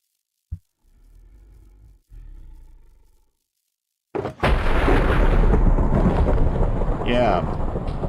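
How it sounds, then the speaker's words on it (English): Deep rolling thunder in the video game RLCraft, a loud sustained rumble that bursts in after a quiet stretch and keeps roaring to the end, with faint earlier sounds beneath. "And that thunder you heard"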